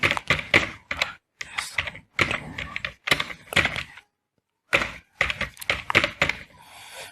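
Computer keyboard keys clatter in quick bursts while someone fills in an online voter registration form, with rapid clicks broken by short pauses and a brief full silence midway.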